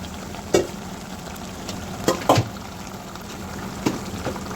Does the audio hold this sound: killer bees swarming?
no